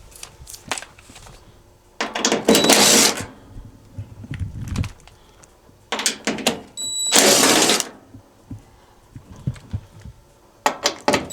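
Electric screwdriver backing screws out of an Electrolux washer panel, with several loud whirring bursts of a second or so separated by quieter clicks and handling, no speech.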